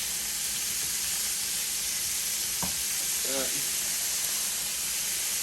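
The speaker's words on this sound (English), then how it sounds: "Dump that in." Small shrimp tipped into a hot pan give a steady, loud hiss of sizzling with a brief clatter as they land, the frying noise continuous throughout.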